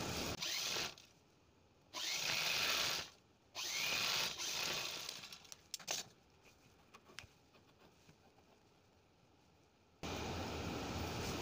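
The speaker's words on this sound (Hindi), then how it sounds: "इसमें भी एक पैर का दबाव देते हुए सिलाई लगा देनी है" Sewing machine stitching a strip for a princess-cut blouse, running in several short loud bursts with pauses between, then a longer steady run at the end, no talking.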